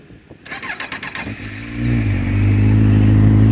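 A 2009 Kawasaki Z750 ABS motorcycle cranks with a rapid whirring starter, catches and settles into a loud, close, steady idle.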